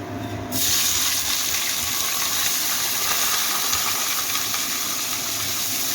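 Onion hitting hot oil with bay leaf, cardamom and red chilies for a Bengali spicy chicken kasha, breaking into a loud, steady sizzle that holds throughout.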